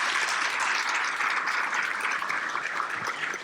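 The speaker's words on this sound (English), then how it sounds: "So let's give him a round of applause." An audience at an awards and scholarships ceremony applauds in a steady, even wash of clapping that holds at full strength throughout, with almost no voices.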